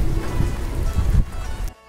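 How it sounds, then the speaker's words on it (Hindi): Heavy monsoon rain pouring down onto surfaces, a loud dense steady hiss with low rumbling that drops off sharply at the very end. "ये देखिए गाइस, बारिश कैसे पड़ रही है।"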